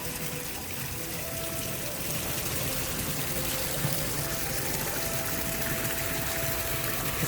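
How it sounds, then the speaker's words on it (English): Water runs steadily through a fish tank setup inside a greenhouse, a continuous close trickling and pump-like hum with a faint tonal whine, no pauses across the whole stretch. "the sound of the water and the fish, just my happy place"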